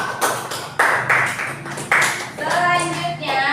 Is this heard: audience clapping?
yes